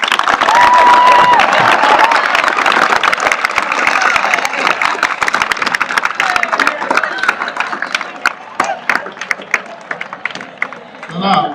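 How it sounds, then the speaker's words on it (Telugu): Audience at a college event claps to welcome guests, the masters Ram and Lakshman, with loud, dense applause and some cheering for about eight seconds before it thins out, with voices mixed in. "వచ్చిన గెస్ట్లకి క్లాప్స్ తో స్వాగతం పలుకుతాం."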